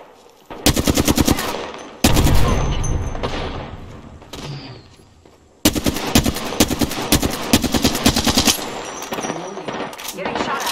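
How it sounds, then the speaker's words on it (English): Rapid automatic gunfire in the video game Apex Legends hammers out in two long loud bursts, separated by a brief pause, with sharp clattering shots and faint voice callouts underneath. "Getting shot at."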